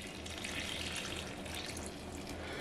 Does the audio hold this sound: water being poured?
yes